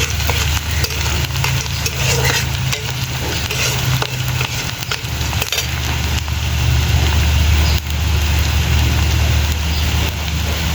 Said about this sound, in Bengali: এখানে তেল আর পেঁয়াজটা ভেজে নিচ্ছি।